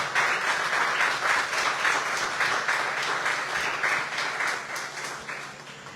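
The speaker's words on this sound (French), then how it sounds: "je vous demande d'applaudir la marraine de cette édition" Warm, sustained applause from an audience at a literary prize evening, many hands clapping together in a dense, even wash that slowly tapers toward the end, with no voices over it.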